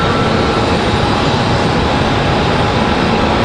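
An airliner departing and climbing out at Charlotte Douglas International Airport gives a loud, continuous broadband jet roar that holds steady and close throughout.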